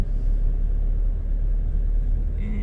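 A manual-transmission car drives on a road under acceleration, giving a constant heavy low rumble of engine and tyres inside the cabin, steady throughout with no voices.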